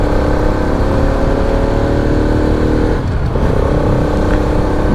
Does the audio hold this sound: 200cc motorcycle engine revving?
yes